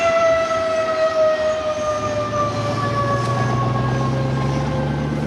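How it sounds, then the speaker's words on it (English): Air raid siren sounding at noon in Hanoi, a sustained wailing tone with stacked harmonics that slowly shifts pitch, loud and steady, with faint low background noise and no speech. "An air raid siren is still used to mark the noon hour in Hanoi."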